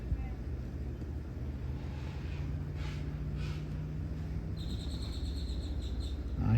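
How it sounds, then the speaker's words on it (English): Birds call faintly around a harbor at Fulton, a few soft chirps and thin repeated whistles over a low steady engine-like hum. "I hear lots of birds, guys."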